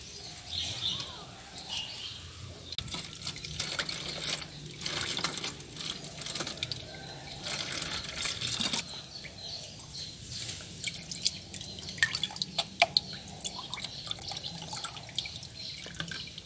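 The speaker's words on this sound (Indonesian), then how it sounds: "sekarang kita pindahkan ke botol mineral plastik untuk proses penyimpanan jangka panjang" Eco enzyme liquid trickles and drips into a plastic mineral water bottle for storage, a soft continuous pouring with scattered splashes, faint birds chirping in the background.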